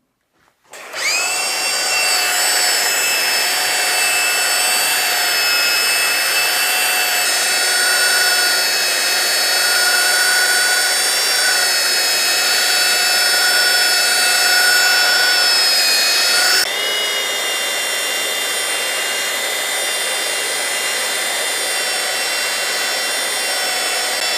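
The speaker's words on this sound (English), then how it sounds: "So I'm going to go and get my belt sander and come back and see if we can get it off quicker." A belt sander starts up and grinds resin off a wooden river table, giving a loud, sustained whining motor drone. The pitch shifts partway through, and no one speaks.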